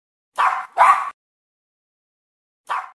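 A Shih Tzu gives three sharp, close barks in a quiet room: two quick ones back to back, a pause of over a second, then a single shorter bark.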